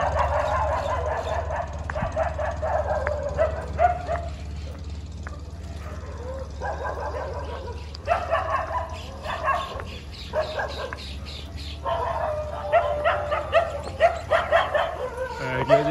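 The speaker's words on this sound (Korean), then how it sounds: "애기 아저씨 보고 막 짖네요 지금." Several dogs in India bark and yip in repeated bursts at moderate distance over a low steady hum, with a person talking at times between the outbursts.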